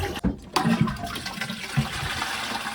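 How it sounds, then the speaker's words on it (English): A toilet is flushed after a plumbing repair and reinstallation: a sharp lever clunk, then a loud rushing swirl of water that carries on steadily as the bowl drains and refills. "Make sure everything's dry and obviously give it a flush."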